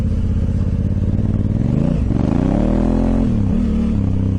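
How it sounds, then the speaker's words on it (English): Honda Africa Twin motorcycle fitted with an Arrow exhaust pipe, a loud, steady low engine drone heard close up, rising in pitch as it revs and then dropping back, with no talk over it. "that's a bloody nice sound coming out of that pipe"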